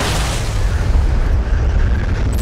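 A deep, sustained explosion rumble from an atomic bomb blast, loud and continuous throughout with heavy low-end roar and no other sounds.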